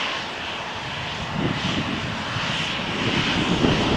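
A Boeing 737-8K2 jet taxis for takeoff at Malaga Airport on a stormy morning, its engines giving a steady, broad roar that swells slightly, heard from a distance with no talking.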